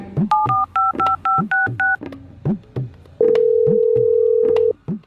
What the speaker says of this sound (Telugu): కొంచెం మీ ఫోన్ ఇస్తారా? ఒక కాల్ చేసుకుని ఇస్తాను